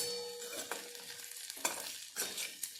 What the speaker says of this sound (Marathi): हे मटार पण आपल्याला या तेलामध्ये छानपैकी ते फ्राय करून घ्यायचे